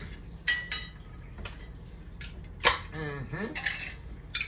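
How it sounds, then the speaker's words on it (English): A jar of Chef Jeffrey's old school marinara sauce being opened, with sharp clinks and taps of glass and lid, a twisting rasp, and a brief faint voice in the middle. "Let me open this bad boy up"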